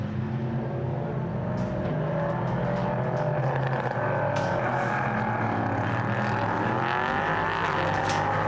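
Second-generation LMP3 prototype race cars, including Ligier and Ginetta entries, lapping the Portimão circuit during a European Prototype Sprint Cup race, a continuous mid-distance engine roar with shifting pitch as cars accelerate and pass, broadcast-style.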